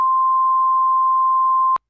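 A single steady, loud electronic censor bleep over a swear word, a built-in effect of an AM8T microphone, held for nearly two seconds, then cut off abruptly into silence.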